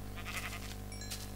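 A farm animal calls out in a blocky survival video game where cows roam, giving a short nasal bleat-like cry over a steady low ambient hum.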